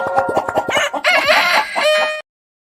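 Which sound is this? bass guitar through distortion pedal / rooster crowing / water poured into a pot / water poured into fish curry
rooster crowing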